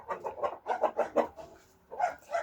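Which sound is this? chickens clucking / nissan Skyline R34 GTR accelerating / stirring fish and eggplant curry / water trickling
chickens clucking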